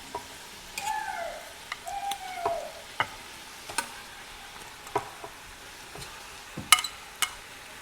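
Beef ribs with garlic and onions sizzle faintly in a pan, a soft steady crackle broken by sharp clinks and taps of utensils against the cookware.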